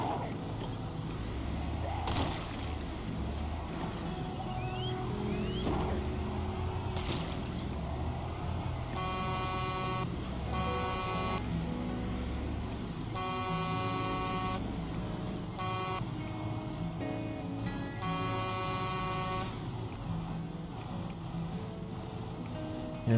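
Car horn honking in the Project Zomboid survival game, sounding in repeated bursts of steady tones through the middle of the stretch, over continuous game ambience and engine rumble, fairly loud and near.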